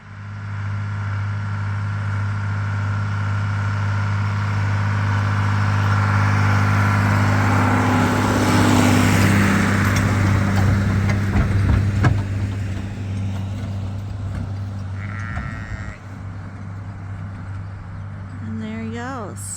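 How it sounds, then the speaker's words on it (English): Big farm tractor with a heated cab idling nearby on a sheep farm, a steady low engine drone throughout, swelling slightly midway, with a few faint higher sounds near the end. "this is the big tractor and it has a heated cab in it"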